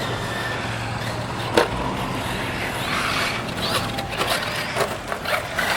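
Kyosho Inferno MP9 electric RC buggy driving flat out at full throttle on a track, a steady broadband whir of motor and tires with scattered clicks and bumps, no voices.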